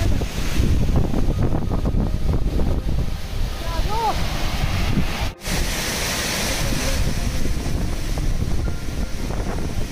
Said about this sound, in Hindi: ये वही वाटरफॉल है